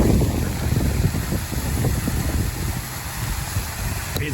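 Heavy rain and wind roar outdoors in Kingsport, Tennessee as a dense, steady broadband wash with low rumbling gusts, loud and continuous, with no talking heard.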